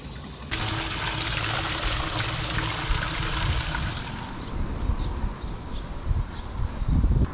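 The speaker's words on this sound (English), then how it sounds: "there are dozens of natural spring water wells throughout the city." Natural spring water runs from a public well in Matsumoto, Japan, a steady close trickle and splash that begins abruptly and carries on evenly, with faint background noise and no talking.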